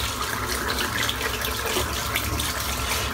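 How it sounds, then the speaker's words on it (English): Tap water runs steadily over a boar-bristle shaving brush being rinsed in a sink, a continuous close splashing gush with no talk. "I'll rinse the brush out while that's drying in."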